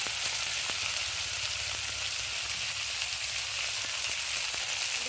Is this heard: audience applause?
no